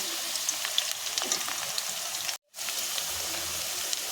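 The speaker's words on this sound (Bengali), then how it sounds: "আলুগুলো আমি লাল লাল করে ভেজে নেব" Potatoes frying in oil for a Bengali gourd and snakehead fish dish, a steady close sizzle and crackle with faint stirring, briefly cutting to silence midway before the frying resumes.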